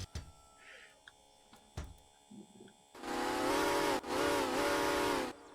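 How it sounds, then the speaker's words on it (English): A steam locomotive whistle, the ATSF 2901 in the Derail Valley train game, sounds loud and close in two long blasts with a short gap between them, after a few quiet clicks and faint hum. "Wow, that was a loud whistle in my ears."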